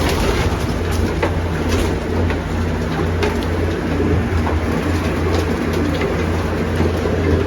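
Pigeons cooing and shuffling inside a loft, a steady low murmur of several birds close by with occasional wing flutters, no voices.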